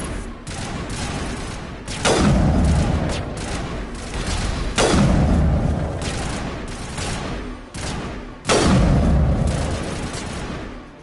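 Sniper rifle shots in Mass Effect Legendary Edition: three heavy, booming reports a few seconds apart, each with a long rumbling tail, over a continuous background of game battle noise.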